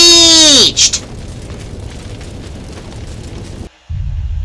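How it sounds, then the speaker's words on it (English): A cartoonish explosion from a railroad children's story: a falling whistle-like tone drops into a burst, followed by a low rumbling roar like fire raging, then a brief cut and renewed rumble. "There's been an explosion!"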